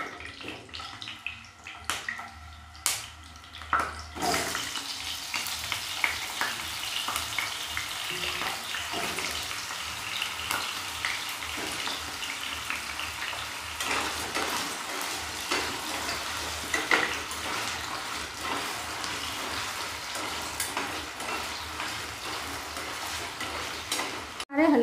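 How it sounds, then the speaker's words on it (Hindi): Potato pieces frying in hot oil in a pan that was just used for frying eggplant, a dense, steady, close sizzle after a brief clatter as they go in, without speech. "अब डालेंगे आलू फ्राई करने के लिए।"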